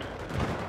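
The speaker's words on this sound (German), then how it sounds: "mit was schießt denn der auf mich?" Rapid gunfire in the war shooter Battlefield 3 Aftermath, a dense, continuous burst of shots swelling slightly midway through a brief stretch of heavy battle noise.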